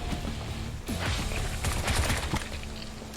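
Gunfire from a pistol in the shooter game Bright Memory: a burst of sharp, close shots clustered in the middle of the clip, rising from a dense, noisy game backdrop with no talk.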